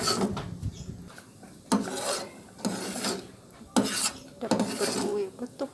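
A spoon dragging through thick hunkue flour batter in a pot for Indonesian rainbow ice, rhythmic rasping strokes about once a second, close and clear with no talking.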